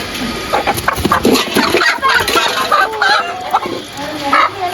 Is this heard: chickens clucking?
yes